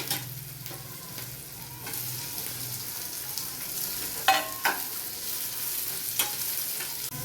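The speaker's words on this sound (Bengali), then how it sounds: "পেঁয়াজ, ক্যাপসিকাম, টমেটোটা কিছুক্ষণ ভাজা ভাজা করে নিয়ে" Onion, capsicum and tomato frying in a pan, giving a soft continuous sizzle close by with a few occasional scrapes and taps from stirring.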